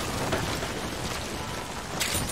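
Steady, dense rain pours down continuously with a soft hiss, no voices present, in the video game Metal Gear Solid V: The Phantom Pain.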